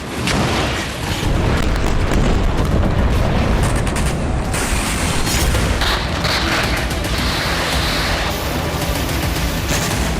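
Bombardment of southern Gaza by airstrikes, heard as a continuous loud roar of booms and blasts with rumbling, crackling texture throughout, no voices present.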